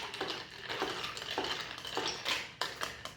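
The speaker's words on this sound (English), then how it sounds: "And now we'll just stir this a couple more times." A bourbon cocktail is stirred over an ice cube, a spoon clinking and scraping against the glass in a quick, irregular rhythm of light, close taps.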